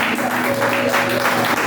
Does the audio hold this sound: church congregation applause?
yes